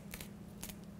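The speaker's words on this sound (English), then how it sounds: "When you collect these little leaves from the thyme, you need to just strip them off like this." Thyme leaves stripped off the stem by hand for a broccoli dish with lemon-thyme dressing: several quick, close, dry rasping bursts, with no talking.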